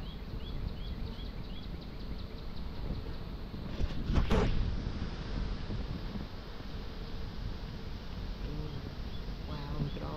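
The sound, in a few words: honeybees buzzing around a hive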